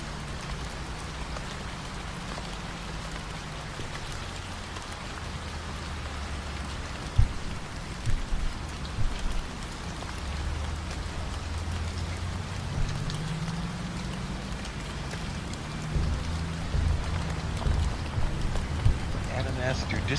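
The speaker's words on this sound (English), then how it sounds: "I can't hear you with the rain." Steady rain pattering on a truck in American Truck Simulator while driving a snowy Alaska ice road, a constant dense hiss with a low engine drone beneath and a few light knocks.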